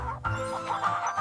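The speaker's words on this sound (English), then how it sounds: "It's a chicken." A chicken clucks close up in a short burst of throaty, repeated clucks with no talking.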